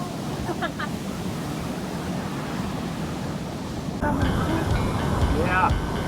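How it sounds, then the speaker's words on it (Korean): Big ocean waves breaking at a Korean surf spot, a constant loud wash of surf with wind buffeting the microphone and a few faint voices in the background. "오늘은 큰 파도가 있는 날입니다."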